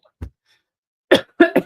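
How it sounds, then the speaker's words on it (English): A person coughs in short bursts: one soft low cough, a pause, then two or three sharper, louder coughs close together, heard alone against silence. "Excuse me, I got a cough."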